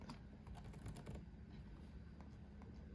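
A quick burst of computer keyboard typing, a rapid cluster of light clicks in the first second, then a few isolated taps over a faint steady hum, no voices.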